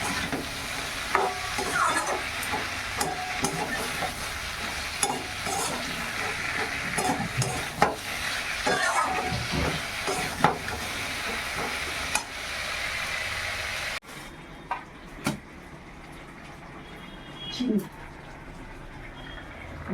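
Food is stirred in a sizzling pan at a home stove, with a steady fry hiss and repeated scraping strokes of a spoon, then a quieter stretch with a few scrapes; someone talks over it.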